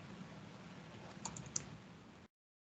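Keys clatter on a computer keyboard as someone types, a quiet, steady run of soft clicks with a couple of sharper keystrokes near the end before it cuts off.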